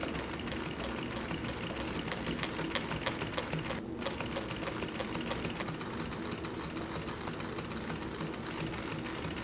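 A Consew 206RB-5 industrial sewing machine stitches leather piping through thick layers, a rapid, even mechanical chatter that runs steadily and close with one brief pause midway, no talk over it.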